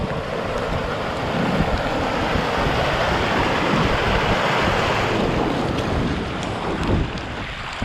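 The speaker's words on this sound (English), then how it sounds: "Wet and windy up here." Steady wind roars across the microphone with a broad wash of driving rain on a hillside on the West Highland Way in Scotland in March, loud and continuous throughout, with no voices.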